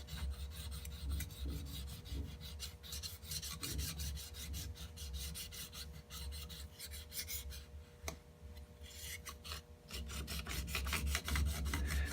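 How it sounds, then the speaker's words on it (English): Steel blade of a combination square stroked back and forth on a sharpening stone to smooth out a nick, a steady close rasping rub running continuously without talk. "place it on the stone, make a few strokes"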